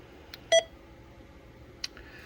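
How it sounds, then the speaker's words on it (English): An Anytone AT-6666 CB radio gives one short, sharp electronic beep, with a couple of fainter clicks around it, close and alone over low background hiss. "Shut that beep off."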